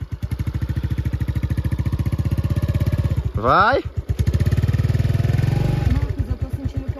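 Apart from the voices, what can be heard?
motorcycle engine accelerating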